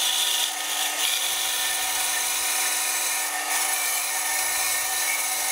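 Bandsaw cutting wood for a guitar build, played back sped up, a continuous loud high rasping whine with no pauses from start to finish.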